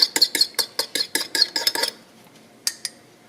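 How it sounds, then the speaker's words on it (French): A utensil beats a chocolate mixture in a bowl for gluten-free rochers, giving about a dozen quick, sharp clinks in a steady rhythm, then a pause and two last taps. "On le bat avant de l'incorporer à nos ingrédients secs."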